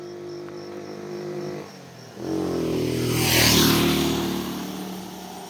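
A motorbike on a quiet rural road speeds past, its engine note swelling to a loud, rushing peak as it passes close by and then easing off.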